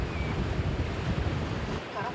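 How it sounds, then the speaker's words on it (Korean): Rough sea waves and strong wind roar steadily and loudly around a conger eel trap-fishing boat out on the open sea, a dense, unbroken wash of surf and gusts. "파도가 심상치 않습니다."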